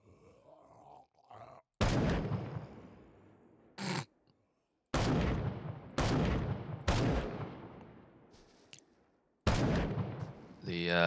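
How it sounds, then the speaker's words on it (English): A Colt 1911 pistol fires at zombies in Unborn: about six loud, spaced shots crack out, each followed by a decaying echo, with zombie groans and grunts in the gaps. "I've picked up the Colt 1911, which is a good pistol for shooting the zombies."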